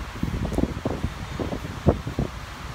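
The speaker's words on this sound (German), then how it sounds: "Ich weiß nicht, ob ihr mich überhaupt versteht oder so, durch diesen Wind." Wind blows at a motorway rest area, buffeting the microphone in uneven rumbling gusts and rustles, loud and close, with no other clear sound.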